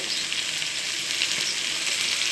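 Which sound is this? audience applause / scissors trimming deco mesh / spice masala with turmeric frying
spice masala with turmeric frying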